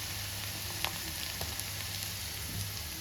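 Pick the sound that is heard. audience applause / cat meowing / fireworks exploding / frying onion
frying onion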